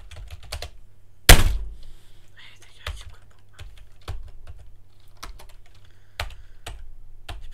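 Keys on a malfunctioning computer keyboard click in short bursts, with one heavy thunk early on as something hits hard, followed by scattered taps and quick presses at close range.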